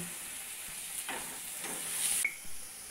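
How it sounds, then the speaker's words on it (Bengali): Onion and garlic sizzle steadily in a home pan, a continuous bright frying hiss with a few soft stirring scrapes, close and alone with no talk. "পেঁয়াজটা ভাজা হয়ে গেছে, সাথে রসুনটা।"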